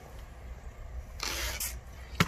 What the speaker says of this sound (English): spray that down